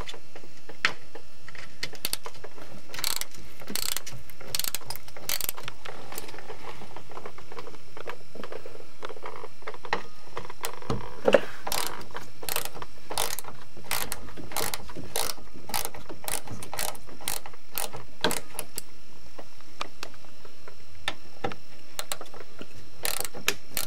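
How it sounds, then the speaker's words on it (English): Rapid, sharp ratchet clicks from a ratchet with a 10 mm socket removing cover bolts on a 1999 Nissan Pathfinder during an oil change, coming in close irregular bursts with short pauses. "You will need a ratchet and a 10 millimeter socket for this."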